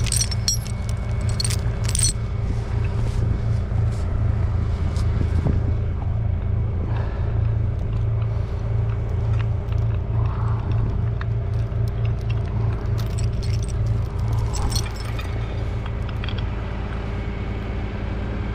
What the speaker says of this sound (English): Alright, so we need to take these chains off